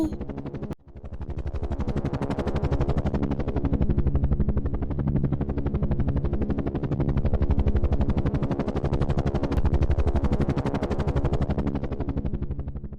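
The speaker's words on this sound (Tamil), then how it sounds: "ஹெலிகாப்டரை இவ்வளவு அருகில் நான் பார்த்ததே இல்லை" A helicopter's rotor thumps in a steady, rapid chop in a Tamil animated cartoon, loud and close, holding strong for the whole stretch with no voices.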